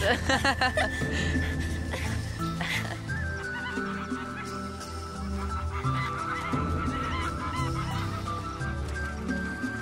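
Cartoon birds in an animated Pocahontas episode call and honk in a busy, continuous chorus over music and sound effects. The calls are loud and close throughout.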